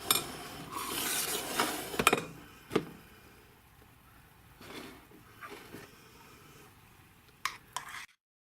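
Chicken, cheese and dressing are mixed in a bowl: soft scraping and stirring with sporadic sharp clinks of a utensil against the bowl, close and fairly quiet.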